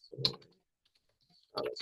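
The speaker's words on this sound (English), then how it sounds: "I'm typing it in." Typing on a computer keyboard: a quick cluster of clicking keystrokes, a pause of near silence, then another burst of keys, close and moderately loud with no talking.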